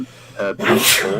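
A person sneezes once during a tabletop role-playing game session, a short sharp burst near the microphone with other voices talking around it.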